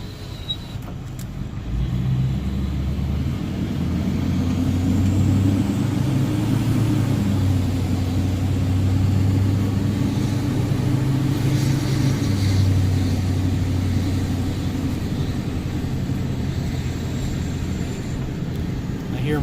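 A Chevrolet Duramax LBZ diesel pickup with an MBRP turbo-back exhaust drives around the block while still cold, giving a steady, close engine drone with a faint high turbo whistle throughout and no spoken words.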